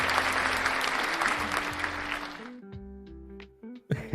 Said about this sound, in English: let's have a round of applause for Manish here